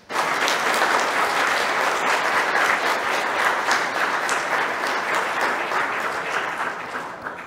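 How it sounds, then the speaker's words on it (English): A church congregation claps steadily in sustained applause at a baptism during Sunday worship, a dense even wash of many hands that tapers slightly toward the end. "a round of applause"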